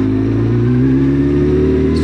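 A Honda CBR 900RR Fireblade SC28 motorcycle engine runs steadily at a held, even rev, loud and close with a constant low throbbing drone and no pauses.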